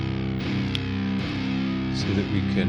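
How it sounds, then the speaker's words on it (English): A basic palm-muted chug on electric guitar runs through a free VST drive pedal and amp simulator, giving a thick distorted low rumble with repeated short attacks under someone talking. "get an idea of how the distortion's going just from a very basic chug"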